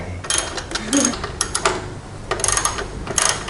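A 17 mm wrench loosens the upper shock mount nut on a Honda CT125 motorcycle. It makes close, quick ratcheting clicks in short bursts, with faint talk.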